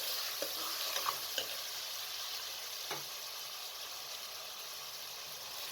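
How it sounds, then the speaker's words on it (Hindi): Whole garam masala and spices frying over a medium flame, a soft steady sizzle with a few light stirring clicks, quiet and close with no talk. "2 से 3 मिनट तक तमाम चीज़ों को भून लें मीडियम फ्लेम पर।"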